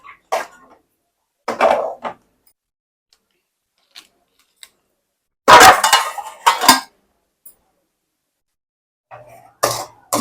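A spoon stirs bread halwa with milk in a metal pan, giving close, loud bursts of scraping and clinking separated by quiet gaps, with no talking.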